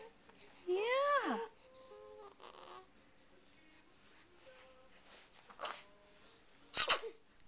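A baby babbles and coos nearby, then gives a couple of quick, sharp little sneezes near the end, the last one the loudest.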